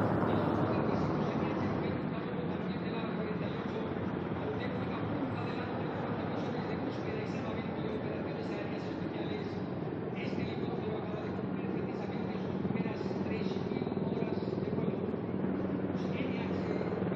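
A formation of military helicopters, Apaches and Chinooks, passes over a national-day parade, a steady low rotor drone that stays continuous and fairly loud throughout.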